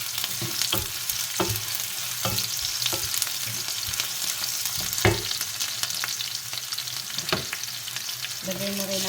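Chopped onion and garlic fry in a pan for chicken empanada filling, giving a steady close sizzle broken by scattered utensil clicks and stirring scrapes.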